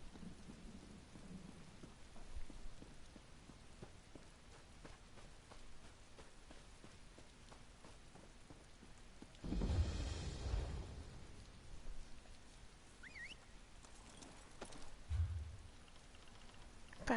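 In the video game Elder Scrolls Online, steady rain patters beneath a thunderstorm, with one loud rolling thunderclap midway and a shorter rumble later, otherwise soft and continuous.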